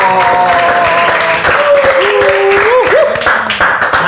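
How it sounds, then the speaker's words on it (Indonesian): Loud, close applause for Nexera in a studio talk show, with overlapping voices and cheers running over the clapping for the whole stretch. "Oh, tepuk tangan dulu dong buat Nexera dong."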